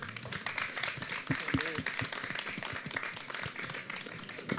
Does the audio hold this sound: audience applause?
yes